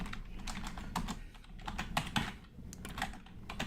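Close computer keyboard typing while entering C code, a steady patter of individual keystrokes in uneven bursts, fairly quiet and alone.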